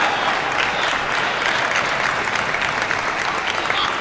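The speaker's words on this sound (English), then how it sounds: "Bit of a cheer up by the audience" A crowd at a China men's team table tennis semifinal cheers and applauds in a steady, dense, sustained wash of claps and voices from a large arena audience.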